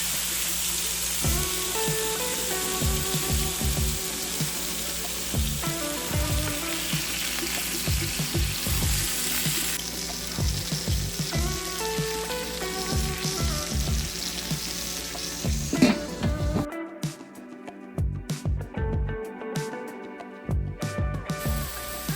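Food sizzles and crackles steadily on a George Foreman indoor grill, a dense continuous frying hiss with scattered pops and clicks throughout, fairly close and without talk.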